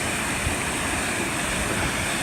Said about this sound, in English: you guys are gonna go inside the waterfall though